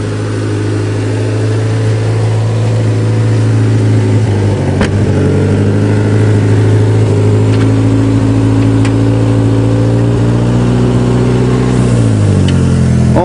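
A 1961 Ford Anglia with no brakes, on its first test drive after an old cold start, runs steadily close by, its mid-pitched engine droning with a brief rev change partway and again near the end.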